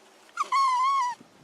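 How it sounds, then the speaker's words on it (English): A dog whines in a single drawn-out, high, wavering whimper lasting under a second, preceded by a short yip, close and clear with no talking. "It's my daughter's dog."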